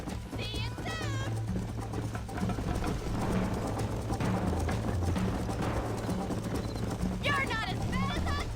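Horse hooves clip-clopping at a quick gallop in the Western video game Red Dead Redemption, a steady rhythmic beat running under game music and bursts of character dialogue.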